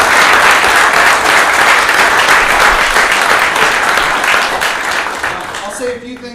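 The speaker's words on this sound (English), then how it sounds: "Give yourselves a round of applause." Trial by Combat competition participants at a Drexel School of Law awards ceremony give a sustained round of dense, loud applause filling the room, fading out near the end.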